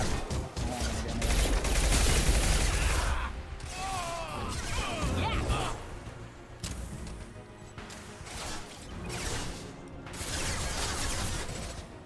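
Bursts of gunfire from a Mass Effect 2 firefight, dense rapid shots and impacts filling most of the stretch with a loud heavy cluster early on and further volleys later, with a voice talking over parts of it.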